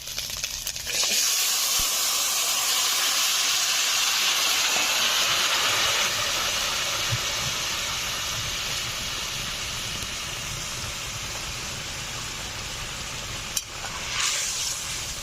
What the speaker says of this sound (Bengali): এখন দিয়ে দিচ্ছি লাউয়ের ঝোল।